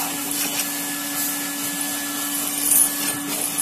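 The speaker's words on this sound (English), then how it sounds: "is removed with the help of a vacuum cleaner" Continuous droning vacuum cleaner with a steady whine cleaning the carpet of a Tata Altroz car, fairly quiet and even, rising slightly near the end.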